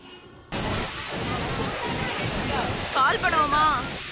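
Athirapally waterfall gives a steady, broad roar of rushing water that starts abruptly and continues evenly, with a short voice breaking through near the end.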